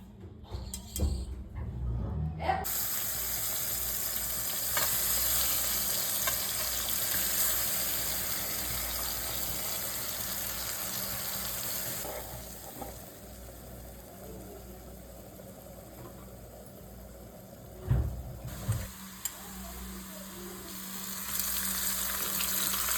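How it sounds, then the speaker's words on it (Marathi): River fish frying in oil, a broad steady sizzle that swells after the fish go in and carries on, with occasional clatter and no talk. "हे मासे आहेत ते तेलामध्ये टाकले"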